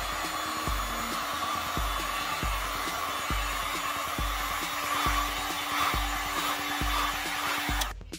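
A heat gun or hair-dryer-style blower runs steadily and close, warming the painted surface of a Ford Mustang Mach-E before 3M tape trim is applied, its continuous whir holding for the whole stretch with faint repeating low thumps beneath.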